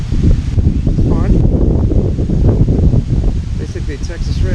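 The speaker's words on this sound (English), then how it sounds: "Boy, it is really windy out here today." Strong wind buffets the microphone in continuous rumbling gusts at Occoquan Reservoir during bass fishing, loud and close throughout.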